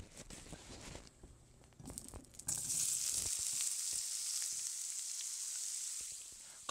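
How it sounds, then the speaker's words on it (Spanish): Sausage hits hot oil in a pan, first with a few scattered taps and crackles, then a loud steady hiss of frying that holds close and slowly eases off, with no talking. "ya una vez haya calentado el aceite, voy a echar la salchicha"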